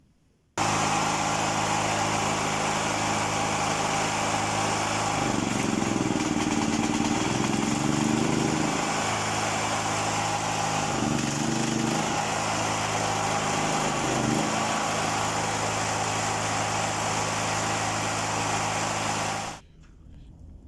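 A Hyundai HG-5500 petrol generator engine runs steadily and loudly for about twenty seconds after carburettor cleaning, with a few brief surges in its low throb before it cuts off.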